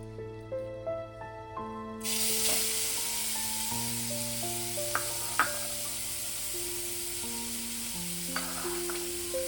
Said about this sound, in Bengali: একটু নেড়ে গাজরটা একটু ভালো করে তেলে নেড়ে নেব।